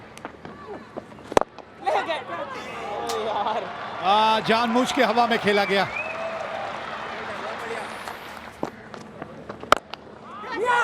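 A stadium crowd at a cricket Test match applauds as a batsman reaches his century, with bursts of clapping and cheering rising and fading under a commentator's running talk.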